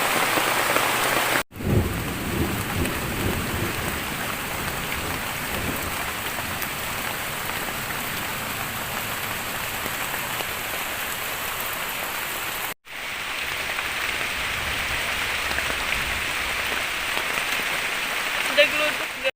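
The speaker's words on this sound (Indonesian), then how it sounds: "Ada geludug." Heavy rain pours steadily onto surfaces at a forest treehouse in a sudden downpour, with thunder rumbling beneath it; two sharp cut-like breaks interrupt the constant wash of rain.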